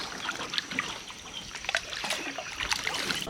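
Paddle strokes through water in a small boat on a river in Tam Coc, Ninh Binh, Vietnam: steady trickling and dripping with soft splashes recurring in a loose rhythm, close by and moderately quiet.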